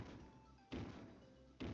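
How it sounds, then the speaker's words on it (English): Two heavy thudding landings of Juggernaut in the MUGEN fighting game, each a loud, abrupt low impact spaced under a second apart over a quiet background. "Sound of his jump, very heavy"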